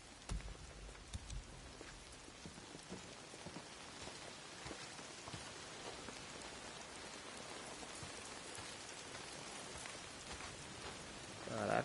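Steady, dense rainfall in the video game Days Gone patters across the whole stretch, a continuous hiss of drops on surfaces with no voices.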